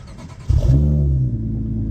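A Honda Accord V6 coupe with a six-speed manual and aftermarket exhaust blips its engine, a short, close, deep rev that rises then settles into a low, steady rumble.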